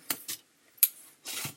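Large scissors cut through a subscription box, giving a few sharp, close snips and scrapes separated by brief silences.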